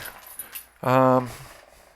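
A puppy in the room gives a short whine or yelp with stacked harmonics, heard once close by after faint background noise, during a rainy day with thunderstorms.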